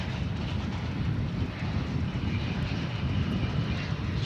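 An American Airlines airliner arriving at Dallas-Fort Worth, its engines a steady, moderately loud rumble with some wind buffeting, no talking.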